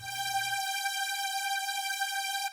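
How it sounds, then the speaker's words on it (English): Smooth analog synth lead layer holding one steady bright note for about two and a half seconds, clean and sustained with even overtones, heard alone after a short low rumble at the start. "the analog layer sounds a little bit more smooth."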